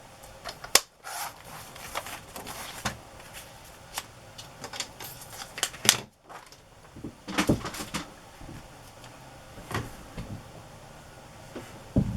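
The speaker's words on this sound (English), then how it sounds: "This is my tab punch." A tab punch works through vintage map journal pages, giving a series of sharp, irregular clicks and paper rustles over a quiet room, with two heavier thunks and no speech.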